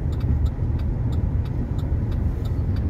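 A car rolling in neutral with no throttle near Madinah, a steady low rumble of tires and road noise heard from inside, with faint regular ticking running through it.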